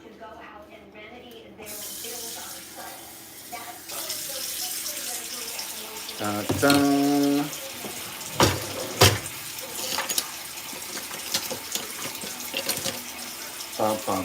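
Water runs from a kitchen tap into a measuring cup, a steady hissing stream that swells louder midway, with clinks and handling knocks and someone speaking and humming over it.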